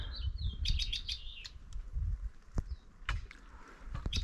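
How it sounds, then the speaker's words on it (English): A red-winged blackbird sings in bursts of bright, buzzy trills and whistles, moderately close, over a low rumble of water and boat noise with no talking. "That's a red-winged blackbird."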